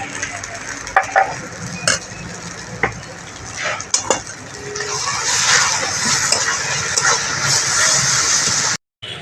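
Thick spice paste of ginger, dried chilli, ground cumin, turmeric and salt sizzling in a pan for crab curry, with steady frying hiss and repeated scraping strokes of a spoon, loud and close, with no talking.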